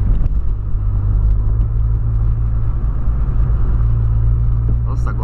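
Volkswagen Polo fitted with a new engine, heard as a loud, steady low rumble close by, with a faint voice near the end.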